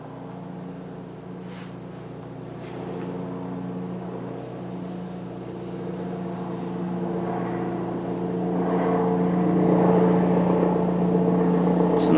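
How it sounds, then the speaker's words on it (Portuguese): A helicopter passes overhead, its low rotor drone steady and gradually growing louder as it approaches, with no voices present. "Um helicóptero em cima da minha cabeça agora, quando eu gravo?"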